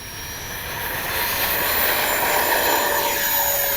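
A Freewing 64mm JL-10/L-15 RC jet with electric ducted fans takes off, its whine rising steadily and swelling louder as it speeds away, with no talk.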